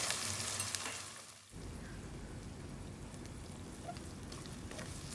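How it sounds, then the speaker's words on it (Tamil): Steady crackling sizzle of shallots and garlic sautéing in a hot pan for cabbage sambar, continuous and fairly loud, with an occasional stir. "பூண்டு எல்லாத்தையும் சேர்த்து நல்லா வதக்கிடலாம்."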